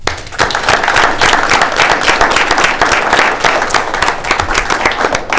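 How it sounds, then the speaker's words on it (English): A city council meeting audience gives a round of applause, dense, loud, sustained clapping from many hands filling the room for over five seconds with no talk over it. "Let's give them one more round of applause."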